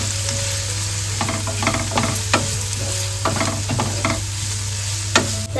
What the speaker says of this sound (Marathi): तर बघते आपला कांदा ना थोडासा असं परतून घेतलेला आहे